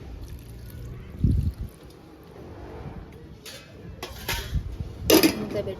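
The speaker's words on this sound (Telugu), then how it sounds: "మూత పెట్టుకొని ఉడికించుకుందామండి" Metal pot clatter in a home kitchen as a lid goes onto a simmering pot of mutton curry with tomatoes and water, a few clanks and scrapes, the sharpest knock near the end, with faint background murmur.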